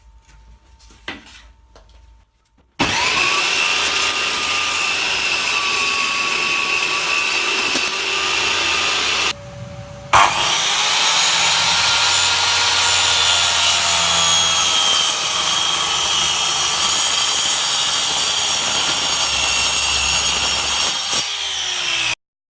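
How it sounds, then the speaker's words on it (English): Table saw ripping the edges off a glued-up wooden board, a loud sustained high whine of the blade cutting through wood, with a brief dip in the middle and the motor winding down at the end. "run it through the table saw and rip off these edges"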